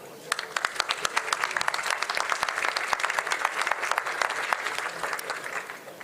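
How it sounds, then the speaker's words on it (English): A studio audience gives steady applause at an interview about fighting anti-Semitism, a dense wash of many hands clapping continuously for several seconds, loud and close. "I think he deserves an applause."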